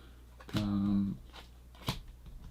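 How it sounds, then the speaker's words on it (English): A deck of cards for a Lord of the Rings card game is riffle-shuffled in one quick, close burst of fluttering snaps, followed by a faint tap. "I've shuffled this deck about 55 times"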